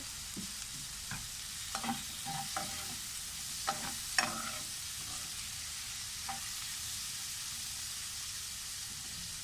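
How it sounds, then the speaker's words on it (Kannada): Prawns fry in a pan with a quiet, continuous sizzle and hiss, punctuated by scattered stirring scrapes and a few sharper clicks of a spatula, with no voices. "ಇದನ್ನು ಚೆನ್ನಾಗಿ ಫ್ರೈ ಹಾಕಬೇಕು"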